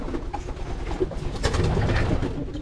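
Pigeons cooing in a breeding loft, several low throaty coos overlapping close by against a dense, steady murmur of birds and loft noise.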